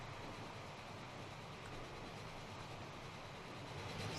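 A train in the Transport Fever racing game runs at speed as a continuous, dense rail rumble with faint clickety-clack, steady and fairly quiet throughout.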